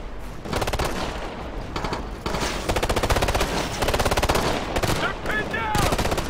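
Sustained mounted machine gun fire in the video game Ghost Recon Future Soldier, loud and continuous rapid bursts with short gaps, mixed with other gunfire.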